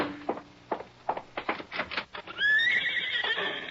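A horse whinnies loudly and close at the end, a long, high, quavering call. Before it, scattered clip-clop hoof thuds come in an uneven rhythm, as if the horse is moving about just outside.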